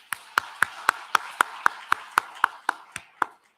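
Church congregation at a Sunday Easter service clapping together in a steady, evenly spaced rhythm, about thirteen crisp claps in a row, moderately close with quiet room tone between them.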